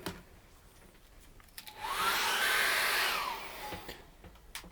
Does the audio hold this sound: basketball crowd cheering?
no